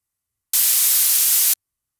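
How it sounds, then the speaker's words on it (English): Unprocessed flat white noise test signal, a loud, steady broadband hiss lasting about one second with abrupt start and stop, surrounded by silence. "So here's the original noise, unprocessed."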